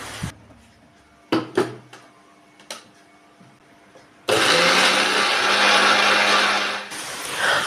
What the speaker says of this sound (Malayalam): മിക്സിയിൽ നല്ലപോലെ അരച്ചെടുക്കുക